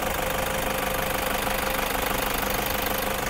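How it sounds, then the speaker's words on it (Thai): The 3.0-litre diesel engine of a 2018 Toyota Commuter van idles steadily nearby, with a constant knocking rumble and even vibration from start to end. "ตอนนี้เราสตาร์ทเครื่องยนต์อยู่นะคะ"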